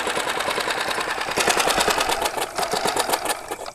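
A flooded outboard boat motor runs just after starting, a steady fast-pulsing buzzy engine note that grows louder partway through as the throttle is worked, close and continuous with no talking.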